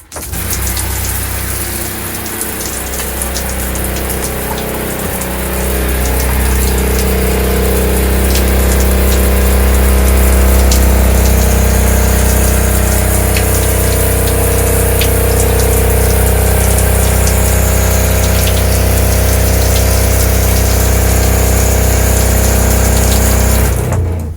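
A water pump runs continuously while a camper is winterized with antifreeze, a loud steady whine and hum with rushing liquid, rising slightly after the first few seconds and holding steady to the end.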